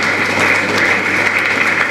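Audience applause at a Kannada literary council humour programme in Mangaluru, a steady dense wash of clapping that holds loud and unbroken for the whole stretch.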